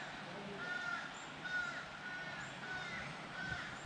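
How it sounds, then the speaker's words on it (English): Several crows caw in short repeated calls, moderately distant, from trees in woods on a popular hiking trail near Augusta, over a soft outdoor background hush. "I think I hear a crow. Multiple crows at that."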